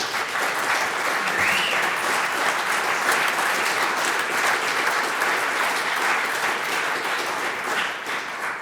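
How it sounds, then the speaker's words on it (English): Sustained applause from a conference audience at a Labour party talk, a dense, steady wash of many hands clapping at even loudness for the whole stretch, with no speech over it. "but you all know because you clapped"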